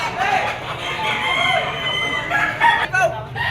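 A talisay bullstag gamecock crows at a rooster market in Padre Garcia, Batangas, its call blending into a busy, noisy mix of other fowl and background chatter that runs throughout.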